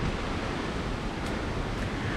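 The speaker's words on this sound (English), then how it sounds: "There's another waterfall" Waterfall in the Watkins Glen State Park gorge after heavy rain, a steady broadband rush of falling water, close and loud, filling the whole clip without voices.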